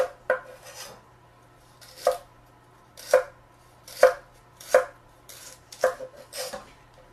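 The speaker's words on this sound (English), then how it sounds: "I cut my celery a little bit thinner." Knife chopping celery on a cutting board: seven sharp, evenly spaced chops, close and crisp, with quiet pauses between them and no talking.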